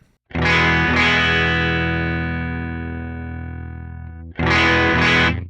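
Electric guitar through an HX Stomp Fender amp model on the bridge pickup with the drive raised: a loud, slightly gritty chord rings and slowly decays, then is struck again near the end.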